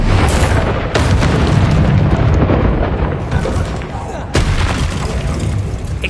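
A Confringo fire spell explodes in Hogwarts Legacy with a loud, close boom, followed by a sustained roaring rumble and a second sharp blast, while a voice calls out over the action.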